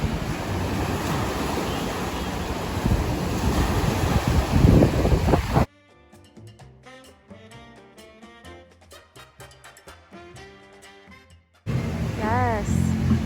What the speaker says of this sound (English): This is the clamshell area. It juts out into the wave pool,